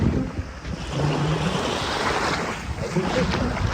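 Sea waves wash steadily onto a rainy-season beach, a dense continuous surf roar mixed with wind buffeting the microphone, loud and close with no clear pauses.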